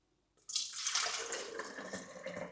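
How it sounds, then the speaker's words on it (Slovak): Water kefir poured through a plastic sieve into a straining container, a sudden splashing gush starting after a brief silence, then a steady trickling flow that tapers slightly, close and clear. "tak je na čase ich zliať. Použijem nádobu na zlievanie a plastové sitko."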